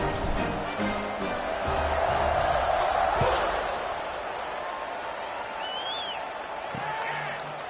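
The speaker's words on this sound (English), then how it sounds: "this crowd is buzzing after that last score" Football stadium crowd at a college game with UTSA, buzzing after a touchdown: a steady, dense roar of many voices fills the whole stretch, with faint scattered shouts and whistles rising above it.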